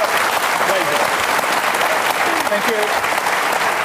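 Studio audience applause from a televised panel discussion show, a steady dense wash of clapping throughout, with a voice briefly speaking over it.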